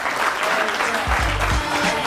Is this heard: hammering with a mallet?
no